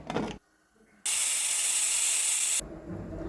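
A pressure cooker with lentils lets out a loud, sustained steam hiss lasting about a second and a half, bracketed by quieter kitchen noise before and after.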